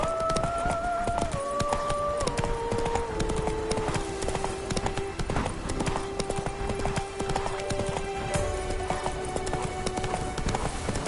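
Roach the horse's hooves clip-clop steadily in The Witcher 3 video game, a continuous trotting rhythm under layered game music with occasional faint voices.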